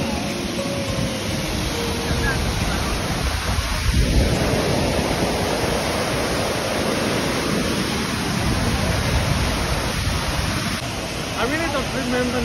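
Whatchachan waterfall in Doi Inthanon National Park roars as a dense, steady rush of falling water, loud and close, with voices faintly mixed into the noise.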